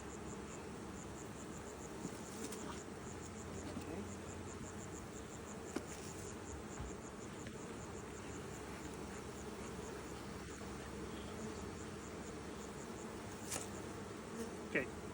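Honey bees drone in a continuous, faint buzz around an opened hive, with soft knocks and scattered voices talking quietly over them.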